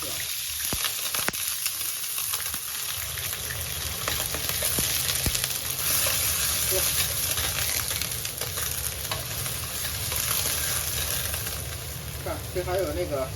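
Drained beans stir-fry in a wok over high heat, a steady loud sizzle with occasional scraping knocks and stirring, sustained and close, with faint voice in the background.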